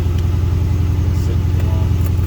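Dodge Magnum SRT8 V8 sitting at a low, steady idle, a continuous deep rumble close by with a faint rhythmic pulse and no revving.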